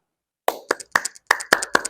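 A class claps out the 'tepuk mantap' cheer, six crisp, close hand claps in a quick rhythmic run after a brief silence, some grouped in pairs, with no voices heard.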